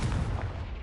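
Confringo blasting spell exploding in the video game Hogwarts Legacy, a single loud, deep boom that rumbles briefly and fades, with no voices over it.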